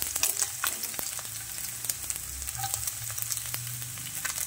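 Garlic sizzles in hot oil for pancit gisado, a loud, continuous frying crackle with scattered pops and stirring noises and no talk.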